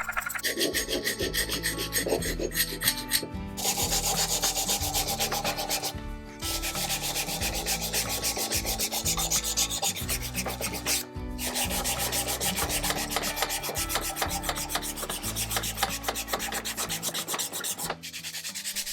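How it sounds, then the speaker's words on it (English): Lacquer is scraped and sanded off the small wooden feet of a box with continuous, loud, close rasping strokes, broken by a few brief pauses and with no talking. "I still need to scrape off the lacquer from all those little feet, and I need to sand those as well."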